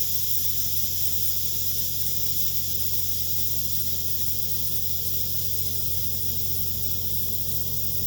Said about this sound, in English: It's a long pressure release.